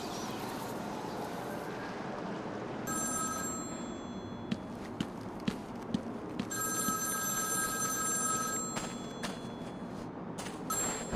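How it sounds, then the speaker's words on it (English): An old-style telephone bell rings in bursts in Batman: Arkham City, trilling across the clip over a low ambient city hum, with a few soft clicks between rings. "There's a phone ringing somewhere."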